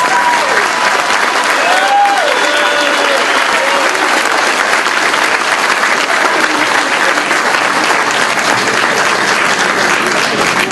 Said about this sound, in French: Vous devez l'applaudir très fort.